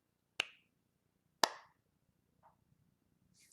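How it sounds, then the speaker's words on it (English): Two sharp, isolated hand claps about a second apart ring out in a quiet room, each a crisp snap with a short decay, followed by a couple of faint small sounds. "Clap with me so Pinky stops."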